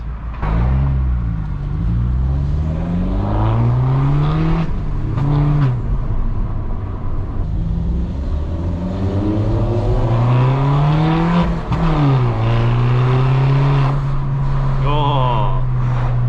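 A straight-piped BMW 1 Series heard from inside the car while driving, its loud exhaust revving up and down through gears in repeated rising and falling sweeps, with brief shifts and a steady drone between pulls.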